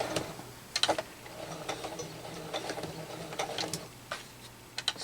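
A sewing machine stitches down the edges of a tablet bag in short bursts, its rapid mechanical clatter starting and stopping over a quiet room, close and fairly soft.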